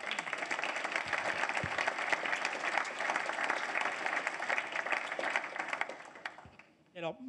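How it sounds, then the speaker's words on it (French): An audience at a conference on new battery technologies applauds the speakers, with sustained dense clapping for several seconds before it fades out at the end. "je vous propose, avant les questions, d'applaudir nos intervenants."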